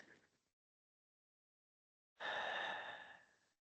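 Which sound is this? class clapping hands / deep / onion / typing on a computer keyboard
deep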